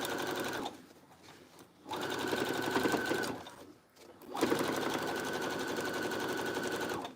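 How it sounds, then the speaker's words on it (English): An industrial high-speed sewing machine runs in fast, steady bursts of rapid needle chatter, with a short pause and a brief stop between runs, close and clear with no talk. "Those industrial sewing machines are not anything to mess around with."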